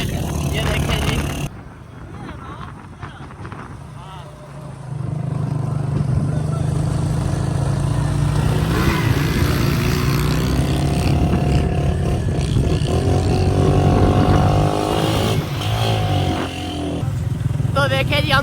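Motorcycles riding on a mountain road in the Tanwal valley near Mansehra, their engines droning loud and close and rising in pitch as they pull away, with voices talking over them.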